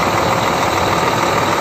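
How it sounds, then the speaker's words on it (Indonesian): Diesel engine of a Scania K410 bus running steadily, a loud continuous rumble with a broad even roar and no talk over it. "Kita lihat mesinnya Scania K410."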